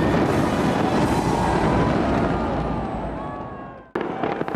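New Year's fireworks over Dubai's Burj Khalifa rumble in a dense, continuous barrage of bursts and crackles. The barrage fades before a sudden cutoff, after which faint crowd noise follows.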